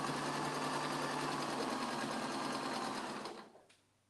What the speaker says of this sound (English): we're gonna sew this one with this one. And we're gonna chain piece.